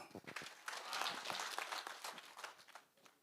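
Applause at a public security forum in Nyamira Town, Nyamira County, a crowd clapping in dense, uneven bursts that swell near the middle and taper toward the end.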